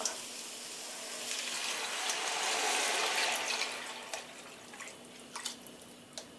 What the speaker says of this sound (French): Donc je verse l'eau.